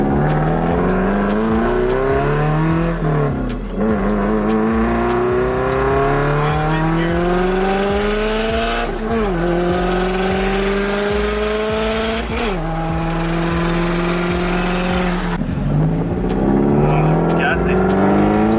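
A 2002 Subaru WRX under hard acceleration: the engine climbs in pitch through several gears with sharp drops at each shift, loud and close from inside the car, with voices briefly heard over it.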